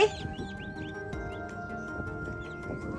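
A village farm hen clucks softly beside her newly hatched, still-wet chicks, while faint high chick peeps come and go over a low background.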